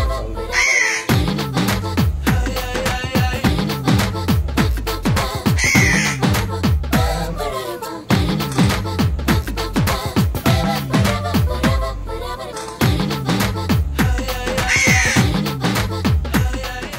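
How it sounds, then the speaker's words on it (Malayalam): A crow that got into an office caws loudly and repeatedly in harsh bursts, close by, with short pauses between calls. "ഏതൊരു ഓഫീസിൽ കയറിക്കൂടി യാതൊരു കോസലും ഇല്ലാതെ ഒച്ചയുണ്ടാക്കുന്ന ഈ കാക്ക കൗതുകമായല്ലോ"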